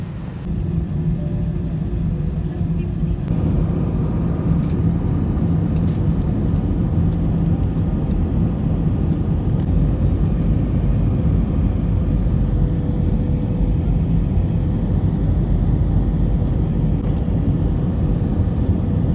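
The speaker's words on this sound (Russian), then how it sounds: "В Гоа самолет летит полупустой" Steady, loud, low cabin roar of a passenger airplane in flight to Goa, India, a constant broadband engine and air rumble throughout with no talking.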